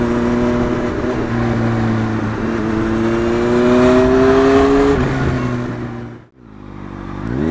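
An 18-year-old Honda Fireblade superbike engine revs as the throttle is opened, a loud rising engine note that climbs steadily, drops at a gear change, then dips sharply before picking up again.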